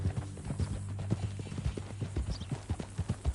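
Hooves of a horse in the Red Dead Redemption 2 video game clip-clopping in a quick, steady walking rhythm, close and distinct, with no voices.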